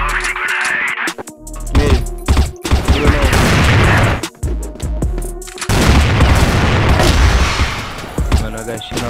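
Heavy gunfire from the CrossFire online shooter comes in loud, dense bursts and booming volleys that nearly fill the moment, with a short lull between rounds.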